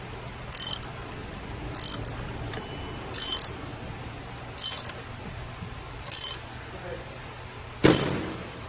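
Ratchet wrench working on the power steering pump of a 1994 Ford Explorer, heard as six short, crisp clicking bursts at roughly even intervals over a low background hum.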